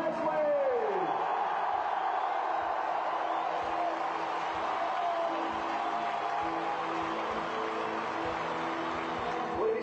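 Stadium crowd at a Hearts football club celebration roars and cheers for former captain Stephen Presley, winner of the 2006 Scottish Cup, a broad sustained swell of voices with a faint whoop near the start and some rhythmic thumps underneath.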